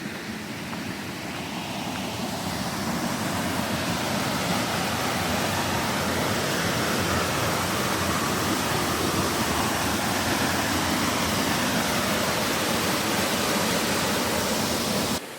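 A loud, constant roar of a waterfall at Cannock Chase close by, broadband rushing water that fills the whole stretch without pause.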